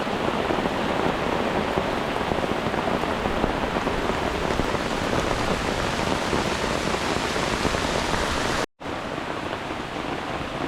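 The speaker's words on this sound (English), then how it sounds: "hopefully we'll make it through this torrential downpour that's on our heels" Torrential rain pours down at a backpacking campsite in the wild, a loud, dense, unbroken roar of drops drumming on surfaces, close and constant, with one brief cut near the end.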